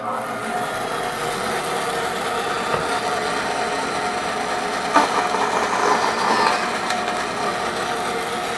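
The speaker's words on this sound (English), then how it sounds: "So let's go ahead and turn the saw on." A bandsaw running and cutting wood, a steady mechanical hum with brighter rasping bursts from the blade biting into the wood in the middle, heard fairly close.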